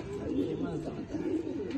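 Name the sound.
pigeons cooing in loft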